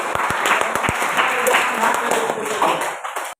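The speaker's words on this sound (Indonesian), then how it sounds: "Ya, tepuk tangan dulu." Classroom applause from students, with a few sharp individual claps at the start that thicken into a brief burst of clapping, a voice murmuring underneath, ending abruptly.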